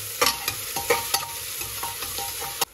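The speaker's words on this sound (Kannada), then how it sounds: "ಮತ್ತು ಆಲೂಗಡ್ಡೆ, ಸ್ವಲ್ಪ ಬ್ರೌನ್ ಆಗೋದಕ್ಕೆ ಬಿಡ್ತೀನಿ." Potatoes frying in a pan until lightly browned for methi pulao, with a constant close sizzle broken by quick, regular spatula scrapes and taps, and no talking.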